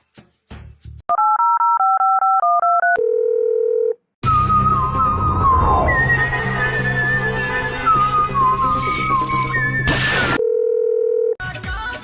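A telephone plays a loud steady dial tone, then a quick run of stepped dialing beeps, followed by a busy stretch of mixed electronic tones and whistling, with the flat tone returning near the end.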